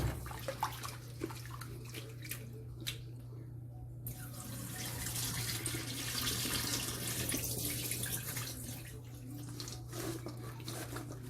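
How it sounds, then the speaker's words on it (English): Tap water runs steadily while coconut strips are washed under it, a soft continuous splashing stream with faint clicks and handling noises, fairly quiet throughout. "And I'm washing my coconut."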